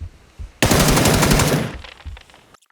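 Automatic gunfire in the video game PUBG: one rapid burst of closely spaced shots lasting about a second, loud and sharp, trailing off with a faint scattered echo.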